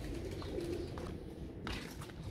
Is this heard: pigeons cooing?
yes